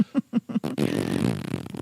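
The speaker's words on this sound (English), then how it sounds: "That was from a cow. Cows farting." Flatulence attributed to a cow, heard as four short, separate low puffs in a quick rhythm, then a longer, louder and rougher sustained blast that rumbles on for over a second.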